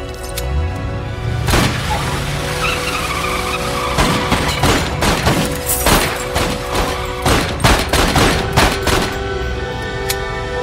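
Film scene gunfire from American History X: a rough engine-like rumble with a rising tone gives way to a series of sharp, loud shots cracking irregularly over several seconds, with no talk over it.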